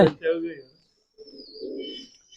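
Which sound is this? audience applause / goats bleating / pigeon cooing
pigeon cooing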